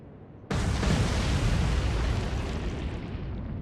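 Torpedo hits in the naval war game Atlantic Fleet: a sudden heavy explosion bursts in and becomes a sustained, loud roaring blast that slowly fades, heard alone without talking.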